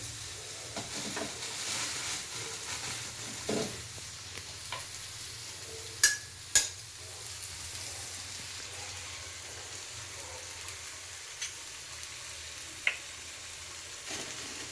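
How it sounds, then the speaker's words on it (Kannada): Three eggs sizzle in an oiled pan on a low flame, a soft steady frying hiss with a few sharp cracks and taps from the shells and pan, and no one speaking. "ಈಗ ನಾನಿಬ್ರಿಗೆ ಅಲ್ವಾ 3 ಮೊಟ್ಟೆ ಹೊಡೆದಾಕ್ತಿದ್ದೀನಿ"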